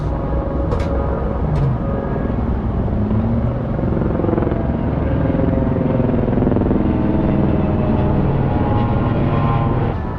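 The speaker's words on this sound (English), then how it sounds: "Check it out, we got helicopters." Helicopters flying over Las Vegas, a continuous, steady low rotor rumble and drone with no gaps across the whole stretch, along with a broad wash of outdoor street noise.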